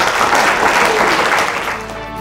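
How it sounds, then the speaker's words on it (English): A room full of people applauds at an innovators event, a loud burst of clapping that fades out over about two seconds. "Round of applause."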